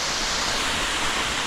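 A waterfall in Sri Lanka gives off a loud, steady rushing roar of falling water, continuous broadband noise that stays alone and close throughout.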